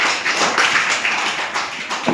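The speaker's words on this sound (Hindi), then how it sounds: "इनके लिए जोरदार ताली बजाओ" Schoolchildren in a classroom clap together for a classmate, a short loud burst of rapid, dense applause from many small hands close by.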